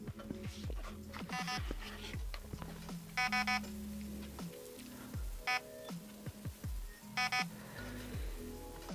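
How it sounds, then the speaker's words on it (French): An airsoft AR15 replica, a Delta Armory Charlie Keymod 10-inch with an electronic trigger unit, gives short groups of programming-mode beeps at intervals over clicking and handling noise. "Et là, ça cycle entre 1 bip,"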